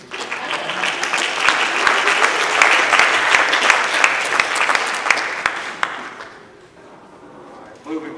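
An audience at a school board meeting claps loudly for several seconds, then the applause thins and fades out, with a few voices at the end.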